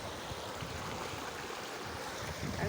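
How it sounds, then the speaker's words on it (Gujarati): Floodwater rushing in a swollen river beneath a bridge after heavy rain, a steady broadband roar with low turbulent churning and wind, continuous and fairly close throughout. "પુલ છે અહીંયા, ફૂલ પાણી જાય"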